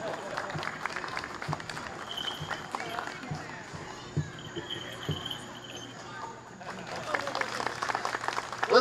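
Applause from an audience at a Renaissance faire show, a soft scattered patter of clapping outdoors with insects chirping throughout and a voice talking over it.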